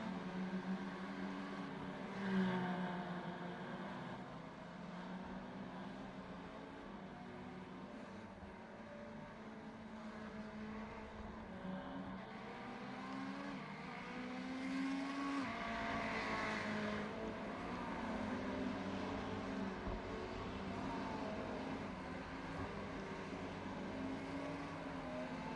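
A Ferrari 488 race car engine rises and falls through gears on an onboard lap at Fuji International Speedway, a continuous faint harmonic whine climbing and dropping with rpm, steady and without talk.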